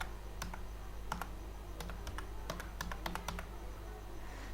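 Keys clack on a computer keyboard while commands are typed to fix the Windows 10 clock, in short irregular bursts of close, fairly quiet keystrokes over a steady low hum.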